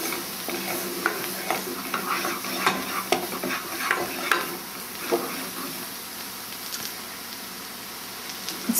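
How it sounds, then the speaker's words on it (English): Rice milk poured slowly into a sizzling flour roux for a vegan white sauce, with a soft continuous fry hiss and irregular scraping and clinking as the mixture is stirred. "Now we'll add in the rice milk slowly."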